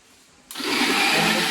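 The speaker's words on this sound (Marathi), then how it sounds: "मिक्सर बघ कसा मिक्सर वाजत आहे" A kitchen mixer grinder starts up partway through, jumping from near quiet to a loud, steady whir that runs on without a break to the end.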